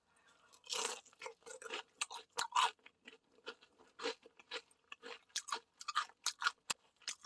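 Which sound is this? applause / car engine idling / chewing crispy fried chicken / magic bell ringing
chewing crispy fried chicken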